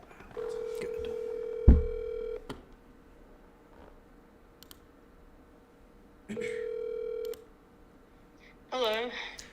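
Telephone tones sound while a call is being placed: two long steady beeps, a brief click between them, and a quick warbling burst at the end, all clear and close.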